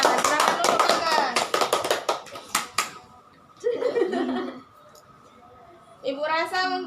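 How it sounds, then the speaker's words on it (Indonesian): Classroom applause from students, a short burst of quick clapping that fades out, followed by chuckles and voices talking. "Oke, tepuk tangan untuk Bagas."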